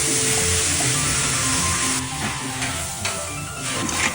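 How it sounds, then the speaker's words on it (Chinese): Water poured into a smoking-hot wok over a big flame erupts in a loud, steady sizzle and hiss lasting several seconds, easing slightly toward the end. "加水。"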